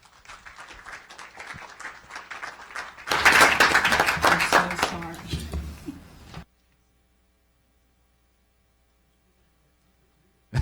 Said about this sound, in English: give our libraries a big round of applause